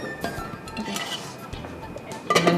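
Metal clinks and a clattering knock as a lid goes onto a pot of porridge on the stove, a few close, bright hits with a sharper clang near the end.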